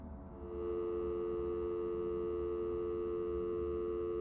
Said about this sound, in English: One more dial tone for old time's sake.